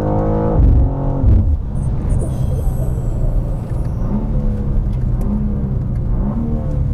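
A BMW M2 G87 engine revving hard, its loud, steady drone rising and falling close by with no talk over it.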